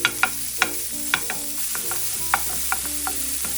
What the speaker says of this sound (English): Put the pork in a preheated pan without oil and cook over medium heat.